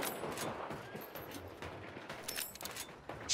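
Video game gunfire with a burst of rapid shots early on, then scattered sharp reports, moderately distant and fairly quiet against a noisy background.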